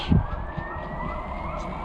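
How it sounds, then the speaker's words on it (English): A steady, high emergency vehicle siren tone drones on without pause from a stopped vehicle over low rumbling background noise, sounding fairly distant. "they seem to have just stopped and sat somewhere with their sirens on"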